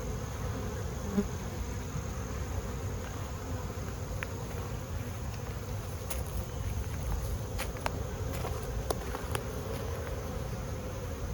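A dense, steady hum of many honeybees buzzing around a sugar feeder jar fills the air close by, with occasional faint clicks and taps.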